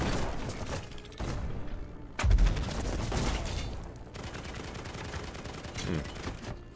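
Missiles and gunfire from a ship battle in the video game Black Skylands, a dense rattling barrage with a heavy boom about a third of the way in, continuing as loud bursts over a steady rumble.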